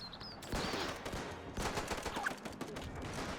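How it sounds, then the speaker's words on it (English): Machine guns fire in the WW1 strategy game Between Empires, with faint, rapid rattling bursts crackling in two stretches amid battlefield noise, fairly distant and quiet. "This guy's firing. Go on, get your machine guns firing."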